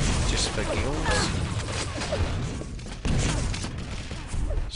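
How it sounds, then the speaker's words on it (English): Rapid gunfire from a team deathmatch match in Quake Live, with continuous bursts of shots and impacts under a commentator's steady talk. "Shooting another teammate there"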